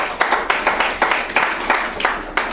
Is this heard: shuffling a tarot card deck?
no